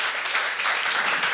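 A church congregation claps together during a sermon in a Bible study on Romans: dense, steady applause fills the short stretch, with no speech over it.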